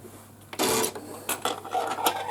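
A sewing machine stitches 5-inch-square quilt rows together with the thread left uncut between rows, running in quick rattling bursts that start and stop several times, close and fairly loud.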